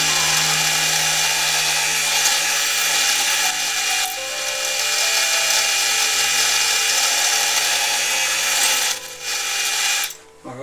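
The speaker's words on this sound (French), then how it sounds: "maintenant on va percer les trous pour passer des ficelles dessus" Holes drilled into a cherry wood spoon rack with a power drill: a loud, steady whirring grind held close for several seconds, easing and sputtering briefly near the end as the bit finishes.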